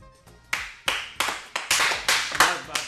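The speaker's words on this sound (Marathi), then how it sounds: "मी आलोय टाळ्या वाजव." A few sharp hand claps sound close by, at first sparse, then settling into a quick, even run of about seven or eight claps, each ringing briefly.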